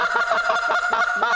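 Rapid, excited honking from a goose call imitating an agitated flock of Canada geese, loud and close, with several overlapping bursts that repeat in an uneven rhythm and no talking.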